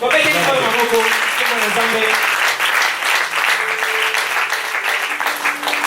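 A church congregation applauding during a service, dense continuous clapping with a voice talking over it at the start and faint tonal sounds underneath.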